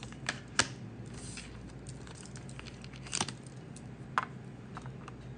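Tarot cards are pulled from a deck, producing soft papery flicks and a few sharper snaps close by in an otherwise quiet room.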